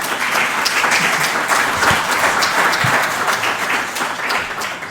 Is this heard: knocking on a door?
no